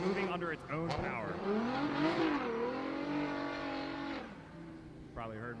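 A drag race car launches down the strip, its engine rising and falling in loud sweeping revs as it pulls away, with a voice talking over the roar.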